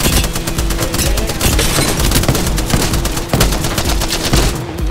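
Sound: gunfire in the video game Apex Legends

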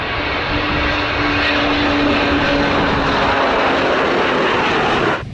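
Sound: airplane flying overhead

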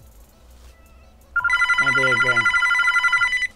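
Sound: telephone ringing in a modded video game

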